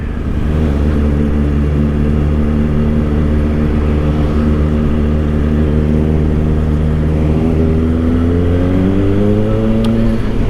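Kawasaki Ninja ZX4-RR four-cylinder motorcycle engine drones steadily during a short commuting ride, a loud continuous hum whose pitch rises gently near the end, with wind rush underneath.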